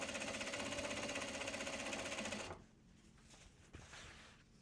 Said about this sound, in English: The sewing machine has been running just as long as you've been here.